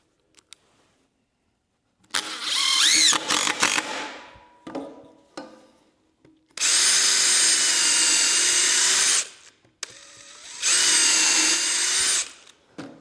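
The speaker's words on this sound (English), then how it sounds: "Always like to pre-drill my holes." A power drill pre-drills holes in wood, whirring in three sustained bursts separated by short pauses with faint clicks and handling knocks, close and loud.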